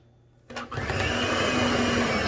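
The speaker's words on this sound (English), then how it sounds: "I'm going to use my hand mixer" An electric hand mixer switches on and whirs steadily through cake batter for an upside-down cake, a continuous close, loud motor buzz after a brief start-up.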